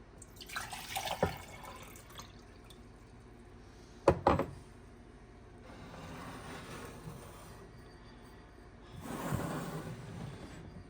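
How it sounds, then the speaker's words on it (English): Water is poured into a measuring cup in a few short, soft bursts with quiet gaps between, a faint splashing trickle in a quiet room. "I'm gonna put my water in the measuring cup"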